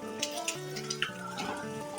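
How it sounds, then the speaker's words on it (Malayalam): Prawns frying in a pan, with a soft, steady sizzle and light clinks of a utensil stirring, heard close and alone. "അപ്പോൾ ഇതേ ചെമ്മീൻ ഞാൻ ഇവിടെ ഇരുന്ന് വറുത്ത് തുടങ്ങി."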